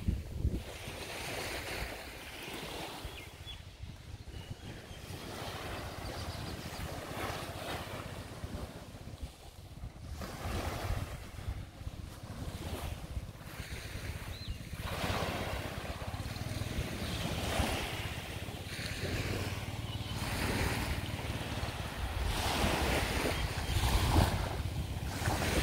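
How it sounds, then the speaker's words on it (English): Ocean waves on a beach at Koh Phangan, a steady rolling wash of surf with recurring swells and breaks, mixed with wind buffeting the microphone, no voices. "the sound of the beach"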